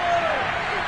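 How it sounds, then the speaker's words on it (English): Stadium crowd noise from Madden 22 during a Browns vs Jacksonville wildcard playoff game, a steady loud roar of cheering sustained through the moment, with a commentator's voice over it. "this crowd is going to let them hear it here on first down"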